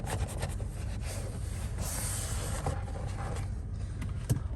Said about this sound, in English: As I accidentally turn on the windshield wipers.